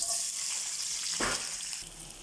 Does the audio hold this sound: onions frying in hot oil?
yes